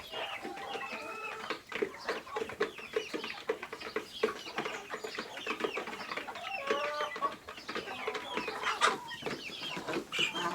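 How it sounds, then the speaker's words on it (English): Chickens cluck and squawk continuously nearby, with a bantam rooster's short, strained crow breaking through among the busy, overlapping bird calls. "A bantam rooster who is sounding absolutely ridiculous right now."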